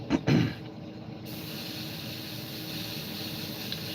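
A steady close hiss of compressed air from an airbrush spraying paint on a model aircraft, preceded by a couple of brief clicks, continuing evenly without speech.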